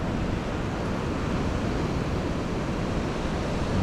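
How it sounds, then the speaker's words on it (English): Rough sea surf breaks on the shore near Sandown pier on the Isle of Wight, a continuous loud broadband wash of churning waves mixed with wind buffeting, with no voices. "I've got the sea, which is being a bit more aggressive"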